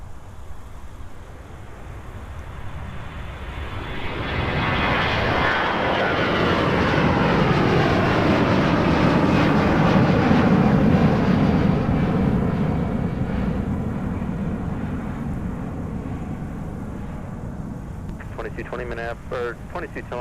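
A fixed-wing jet takes off from Minneapolis airport on a muggy winter day, its engine roar swelling to a loud, long peak mid-clip before fading, with a faint radio voice near the end.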